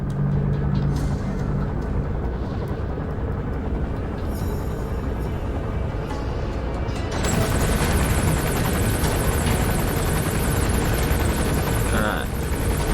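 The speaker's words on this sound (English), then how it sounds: "Yeah, that chopper's coming." Helicopter in Metal Gear Solid V: The Phantom Pain, a steady rotor drone that swells louder partway through as it passes overhead, with game ambience and someone talking under it.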